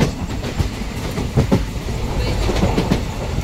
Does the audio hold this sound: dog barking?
no